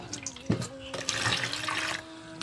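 Tap water runs and splashes while potatoes are rinsed for crispy chips in a home kitchen, heard close with uneven gushes and a voice faintly underneath.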